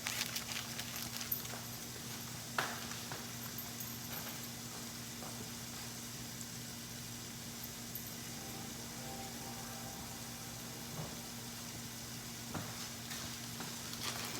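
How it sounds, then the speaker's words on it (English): Food simmers in a pan on a home stove, a faint steady sizzle with a constant hum beneath and occasional soft clicks, with no talk. "as you can see, that's just simmering there"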